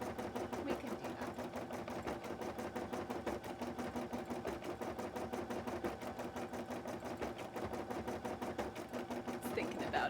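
A sewing machine runs steadily, stitching yellow thread into a cosplay costume with a fast, even mechanical chatter that holds for the whole stretch at close range, with no voices over it.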